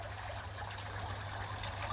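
Water trickles steadily in a garden waterfall, a soft continuous splashing and dribbling heard close and alone, with no voices.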